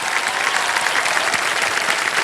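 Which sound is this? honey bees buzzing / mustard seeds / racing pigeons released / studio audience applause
studio audience applause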